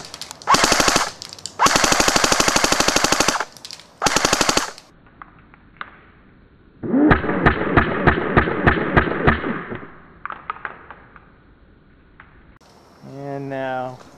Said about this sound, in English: you can get an idea of the rate of fire too